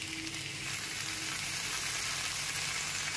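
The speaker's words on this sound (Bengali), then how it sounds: "এর মধ্যে দিয়ে দিচ্ছি কেটে রাখা পুঁইশাকগুলো" Chopped Malabar spinach hits a hot pan with hilsa fish head, turmeric and salt, giving a steady close sizzle and frying hiss throughout, with no voices.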